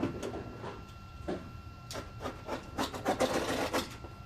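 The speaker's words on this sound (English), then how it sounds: "We just trim carpets perfectly using the old hook blade." Hook blade trimming commercial carpet along a skirting board, a series of close rasping, tearing cuts that grow denser and louder toward the end, dry and scratchy.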